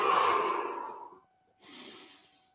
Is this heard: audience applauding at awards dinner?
no